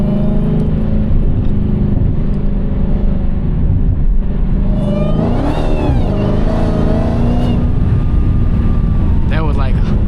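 A Dodge Hellcat at half throttle gives a loud, close engine drone whose rising supercharger whine sweeps up midway and again near the end, with cabin rumble throughout.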